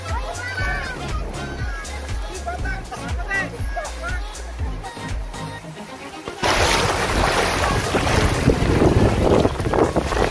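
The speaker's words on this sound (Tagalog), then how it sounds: "Medyo malakas na yung alon." Strong sea waves surge and crash close by at a rocky pool on a beach in Burgos, Pangasinan, with heavy wind buffeting the microphone; the roar grows louder midway, and a voice speaks over it.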